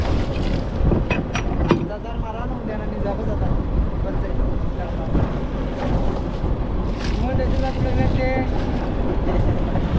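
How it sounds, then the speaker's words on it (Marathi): Strong wind blows across a fishing boat at sea, buffeting the microphone with continuous gusty roar, boat and water noise beneath, and someone talking over it. "आता तर वारा एकदम जास्तच वाढलाय"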